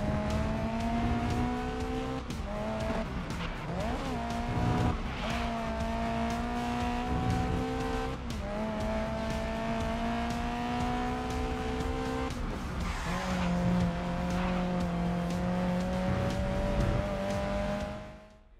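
Race car driven in the video game Grid Legends: a loud, close engine note that climbs and drops through repeated gear shifts and revs, with brief tire squeal, continuing steadily with no talking until it cuts off near the end.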